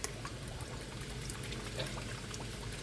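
Light soy sauce poured into a dish with ginger and garlic, a faint steady liquid pour with soft trickling, no voice.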